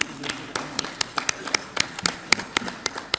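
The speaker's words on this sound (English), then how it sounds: "A round of applause for him." Scattered handclaps from a small conference audience, sparse and uneven, with a few louder claps standing out against a quiet room.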